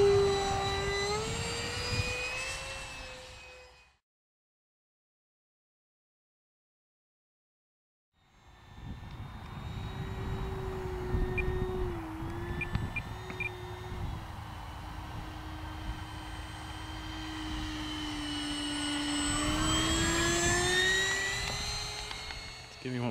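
Freewing Lippisch P.15 RC jet with a 64mm electric ducted fan, whining steadily as it flies, fading out completely for a few seconds and then returning louder, with a rising and falling pitch as it passes.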